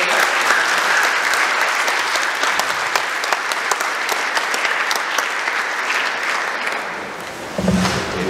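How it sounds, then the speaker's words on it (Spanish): Sustained applause from an audience at a panel discussion on the Mexican Revolution, steady clapping that fills the whole stretch and swells again briefly near the end. "Pido un fuerte aplauso para nosotros."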